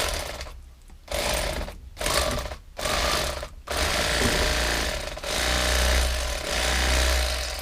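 Electric fillet knife with Bubba and Mister Twister blades cutting through a fish on a cutting board: a loud, close mechanical buzz that starts and stops in several short bursts, then runs steadily for the last few seconds, with no talking.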